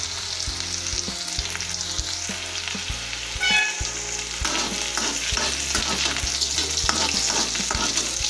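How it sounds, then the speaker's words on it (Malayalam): Chopped ginger and green chili sautéing in oil in a pan over low heat for a dates pickle, a steady soft sizzle with scattered stirring scrapes and faint background music. "ഇഞ്ചി, പച്ചമുളക് ഇതെല്ലാം ഇട്ട് കുറച്ച് നേരം വാട്ടി കൊടുക്കാം"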